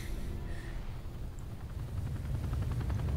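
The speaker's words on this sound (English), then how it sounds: "Helicopters from Resident Evil get shot down." Helicopter in the video game Resident Evil: Revelations 2, a loud low rotor rumble that thickens into a rhythmic chopping beat toward the end, with no voices.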